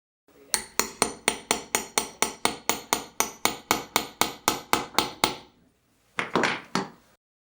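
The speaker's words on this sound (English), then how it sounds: "I then hammer the snaps together." Rapid, evenly spaced hammer blows setting metal snaps into a quilted fabric jacket, about twenty sharp strikes in a row, close and loud, followed by a brief rustle after a pause.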